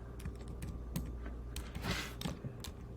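Fingers type on a computer keyboard while a New York Times Sunday crossword is being solved, with quick irregular clicks from nearby in a quiet room and no voices.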